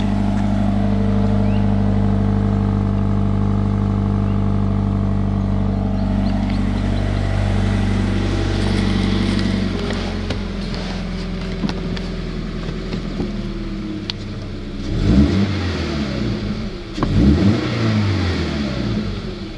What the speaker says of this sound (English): The car does have a pretty nice idle for being stock.